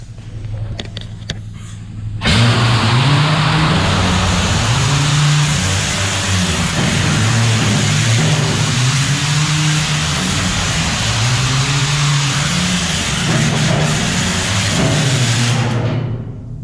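A loud air-powered machine in an old mine starts abruptly and runs steadily, a heavy pulsing mechanical roar with a rhythmic low throb that holds for about fourteen seconds before cutting off.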